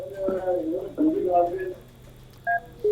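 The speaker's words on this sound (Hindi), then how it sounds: "फोन हम तक कट गया" Telephone line tones after a caller's call drops during a phone-in TV legal advice programme: a steady two-tone electronic beep follows a caller speaking, with a short tone burst near the end.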